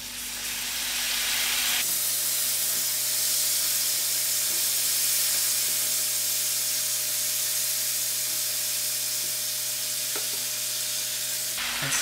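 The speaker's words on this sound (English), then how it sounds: "And now I'm going to add in my potatoes." Potatoes frying in a pan with masala for an aloo curry, a loud, steady sizzle and hiss starting suddenly and continuing close and unbroken, with no voices.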